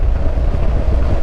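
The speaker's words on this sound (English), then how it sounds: "There's a bit of wind, there is a bit of noise, but I haven't got earplugs in." Steady, loud low-frequency wind buffeting from riding a Honda NC700 motorcycle, a constant rumbling roar with no breaks and no voices, the engine's slightly cracked exhaust buried under the rush.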